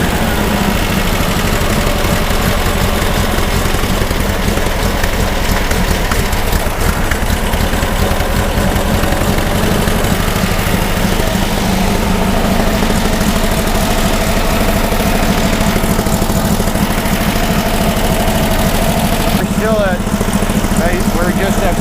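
A rebuilt 1959 dune buggy engine running steadily at about 1700 RPM, a constant loud mechanical hum and rattle throughout, with people talking over it.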